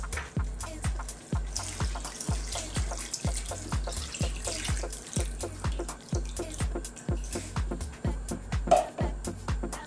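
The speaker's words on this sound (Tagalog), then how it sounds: "Ngayon po maglalagay na tayo ng chicken broth or stock." Chicken broth pours steadily into a cooking pot for Filipino arroz valenciana, a continuous close splashing gush with a dense rhythmic pulse running under it.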